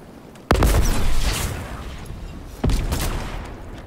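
Weapons fire in the video game Fortnite, with two heavy booming blasts like rocket launcher shots, each followed by a sustained roar of fire and explosion, loud and close.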